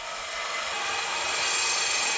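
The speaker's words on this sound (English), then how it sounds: "We're cutting up any cooler piping." A harsh, continuous high-pitched grinding rasp of a blade cutting intercooler piping on a Nissan Silvia holds steady and grows slightly louder over a couple of seconds.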